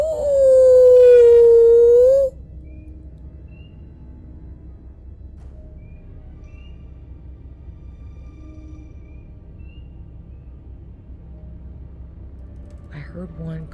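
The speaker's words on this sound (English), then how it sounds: "There's a wolf howling." A single long wolf howl rises loud and close in a nighttime forest, holding a steady wavering tone for about two seconds before cutting off, leaving faint low ambient rumble.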